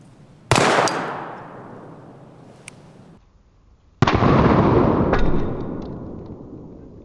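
A Chiappa Rhino revolver fires 158 grain soft point rounds outdoors, two loud close shots a few seconds apart, each with a long fading echo.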